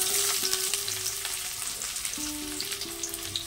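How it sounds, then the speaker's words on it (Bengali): Chopped onion frying in hot oil with whole garam masala, a steady close bright sizzle with occasional crackles and soft stirring, no voices. "পেঁয়াজটাকে একটু লাল লাল করে ভেজে নেব"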